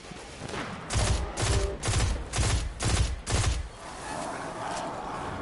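Gunfire from weapons in the video game Destiny 2: six loud, evenly spaced shots ring out in quick succession, followed by a lower, steady rumble of game noise with no talking.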